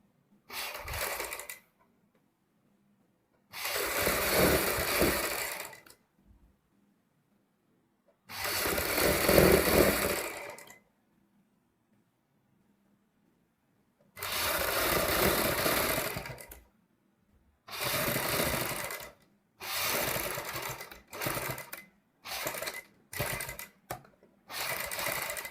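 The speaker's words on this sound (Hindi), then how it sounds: "इसके नीचे रखने के बाद इसके ऊपर हमने सिलाई लगा लेनी है" A sewing machine stitches a strip onto a suit sleeve in bursts separated by silent pauses. Several longer runs come first, then a quick series of short stitching spurts, close and clear.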